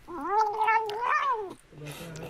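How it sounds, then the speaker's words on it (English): An angry cat lets out a long, wavering yowl that rises and falls close up, followed by a short rough growl at the end. "angry cat."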